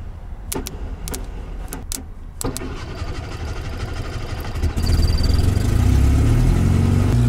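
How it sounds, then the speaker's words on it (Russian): An old ZAZ Tavria car that has been failing to start gets a starting attempt. Several short starter clicks and cranking bursts are followed by a louder, sustained engine roar close by, with no speech. "Таврия уже не заводится"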